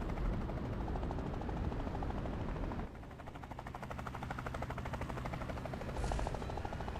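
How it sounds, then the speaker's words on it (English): Helicopter in the video game Dolls Nest, a rapid, steady rotor chop and buzzing whir that carries on continuously at moderate loudness, shifting slightly in texture midway. "Helicopter!"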